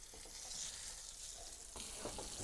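Steady crackling sizzle of soft-shell crab frying in hot oil, with small pops scattered through it.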